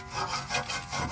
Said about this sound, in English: Do some scrubbing in there.